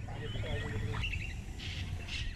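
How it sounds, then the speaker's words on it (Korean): Birds chirp and squawk intermittently over a steady wash of flowing water along a jungle river in Chitwan, Nepal, at dawn. The scene is quiet and distant, with no voices heard. "새소리 물소리만 들리는 이곳에서 인기척을 느꼈습니다"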